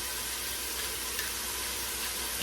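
Extra virgin olive oil sizzling steadily in a pan while cooking pepper steak, a continuous soft hiss at a low, even level with no talk.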